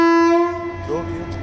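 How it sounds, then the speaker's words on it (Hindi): A long train horn blast, steady and tonal, sounds at a railway station at night in Bikaner, signalling departure. It is loud and near, then fades as softer background noise and a brief voice-like sound follow. "एक लॉन्ग हॉर्न होता है डिपार्चर इंडिकेट करने के लिए, एक शॉर्ट हॉर्न होता है फॉलो अप।"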